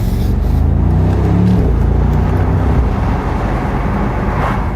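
A Mercedes SL 63 AMG 4MATIC+ roadster engine rumbles low and steady at cruising speed, a continuous deep drone with wind noise, no talking.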